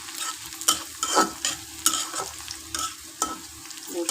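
Chopped garlic and onion fry in hot oil, a steady sizzle punctuated by repeated scraping stirs, close and fairly loud with no talking.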